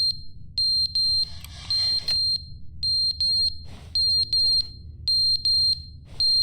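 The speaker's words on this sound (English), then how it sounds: "the beeping sound is so irritating. But yeah, it's the fire alarm" A fire alarm in The Stanley Parable: Ultra Deluxe sounds repeated loud, high electronic beeps in an uneven pattern over a steady low hum, with brief gaps between groups of tones.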